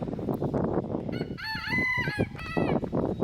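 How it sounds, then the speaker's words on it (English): A rooster crows loudly a couple of times over a busy background of other fowl clucking and noise nearby. "That rooster, that specific one that you hear crowing right now, he drives me insane."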